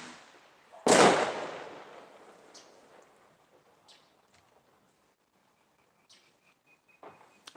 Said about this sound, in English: The military barrage is starting.